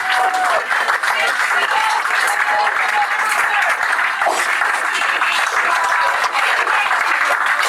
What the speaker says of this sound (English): as the crowd goes wild